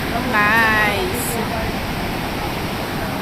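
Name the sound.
strong surf waves at Baler, Aurora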